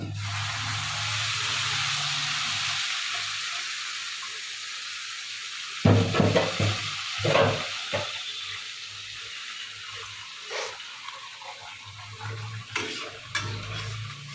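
Ground spices and asafoetida hitting hot oil in a pan, a soft steady sizzle with stirring scrapes and a few louder clatters partway through, close by.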